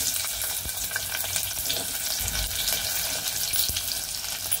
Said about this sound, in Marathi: आता तेल तापलं की मग कांदा घालायचा।